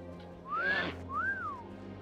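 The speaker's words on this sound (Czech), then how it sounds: "Tady budu pískat." A person whistles two short rising-and-falling notes in a row, clear and close, over a quiet background hum.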